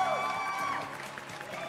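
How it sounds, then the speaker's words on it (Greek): A television studio audience applauds, a brief burst of clapping mixed with music and voices that fades as speech takes over. "Δώσε και σε αυτό ένα χειροκρότημα, το αξίζει το χειροκρότημα ο Νίκος."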